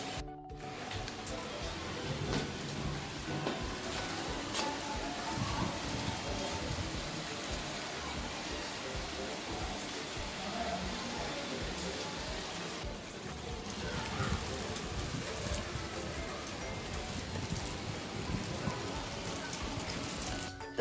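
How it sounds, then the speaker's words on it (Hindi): Heavy rain pours down in a steady, dense hiss that lasts throughout, loud and close, broken by occasional louder gusts of downpour. "खूब ज़ोरों से बारिश हो रही है"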